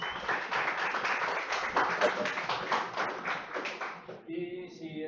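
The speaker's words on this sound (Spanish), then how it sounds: "Yo creo que se merece un aplauso a nuestro ponente." Lecture-hall audience applauding a speaker after a philosophy talk, steady dense clapping for about four seconds that thins out, then a voice begins speaking at the end.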